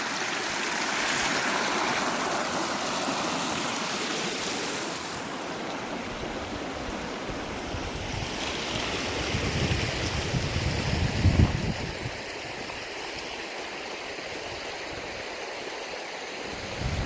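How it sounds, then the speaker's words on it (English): A small mountain creek on a Crested Butte, Colorado hiking trail, steady rushing and splashing water close by, mixed with breezy wind noise and footsteps as it is crossed. "Just crossing this little creek here."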